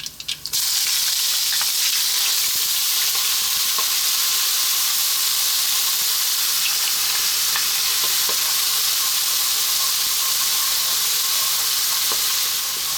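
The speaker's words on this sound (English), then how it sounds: "You'll hear that when we're going to put the onions in, which is next. So 1 onion cut really small, in it goes." Finely chopped onion sizzling and frying steadily in hot oil over high heat for a Indian mattar paneer curry, a loud continuous crackle with occasional stirring clicks, close and alone.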